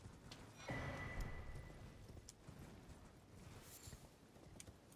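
A horse walks in the open world of the video game Elden Ring, with soft hoof clops and faint creaks over a quiet ambient backdrop, a brief louder swell early on, and no talk.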